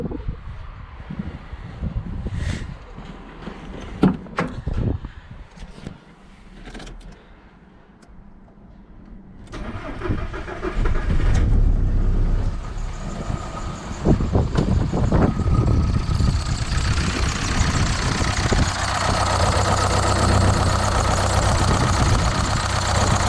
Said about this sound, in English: So now I'm going to start the engine and see if it's working